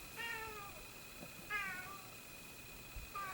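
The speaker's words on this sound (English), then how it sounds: "I hear the cat." An indoor cat meows three times at regular intervals, moderately loud and fairly close, over a low steady background hum, with no talking.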